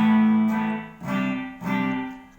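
A sustained electric guitar chord through a Boss DD-3 delay pedal set to a 200-millisecond delay repeats three times with short, roomy echoes, each slowly decaying, giving a thick, reverb-like wash.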